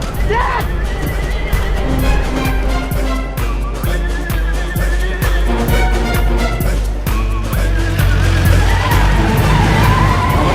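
A car driven fast in a chase, engine roaring loud and close with sharp tire squeals and skids over a dense, busy mix of rumble and shouting voices.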